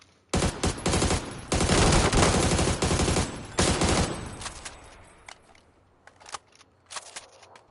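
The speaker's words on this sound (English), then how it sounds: "that was garbage ass shooting" Loud sustained machine-gun fire from a video game, long rapid bursts broken by short pauses, then fading into scattered single shots.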